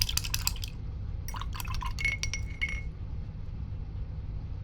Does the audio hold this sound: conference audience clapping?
no